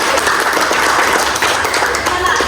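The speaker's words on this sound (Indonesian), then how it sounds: "Iya, tepuk tangan." Dense, steady applause from a group fills the whole stretch, a continuous wash of clapping with a few voices mixed in.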